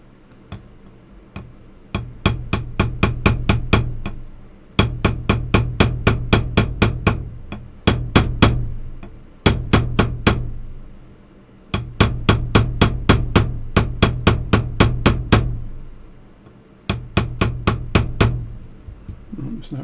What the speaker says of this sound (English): Well, keep pounding on it.